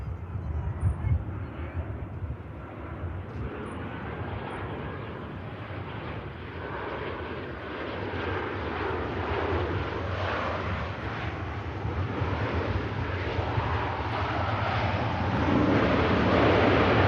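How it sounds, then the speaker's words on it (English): A Ryanair airliner landing at Manchester Airport, heard as a continuous broad jet roar from some distance that swells gradually over the whole stretch. "Ryanair from Brussels, Charles de Roy next to land."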